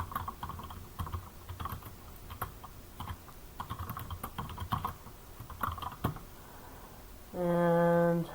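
Fingers type a title on a computer keyboard in a quick, uneven patter of close, light key clicks, then a steady electronic tone with stacked harmonics sounds briefly at the end.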